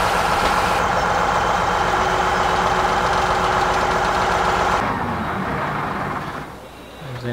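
A tractor engine idles in Farming Simulator 17 with a steady, close mechanical drone and a knocking rumble. It softens and thins out toward the end.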